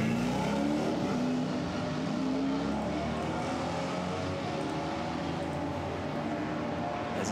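GT4 race cars at the Misano circuit roar steadily as they leave the pits, a dense, continuous engine drone heard from a distance with no talk.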